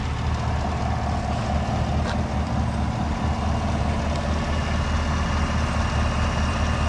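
A steady, smooth engine idle from a 2018 GMC Yukon XL SUV, likely running on four cylinders, hums low and constant throughout, close by, with no talking.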